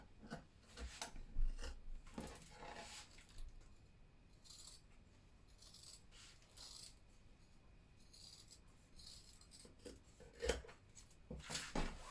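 Scissors snip through dress fabric while cutting out a shoulder piece with a half-inch seam allowance, giving soft, scattered rasping cuts, close and quiet, with no voices.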